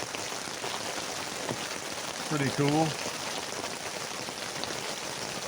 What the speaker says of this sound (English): You can hear that rain.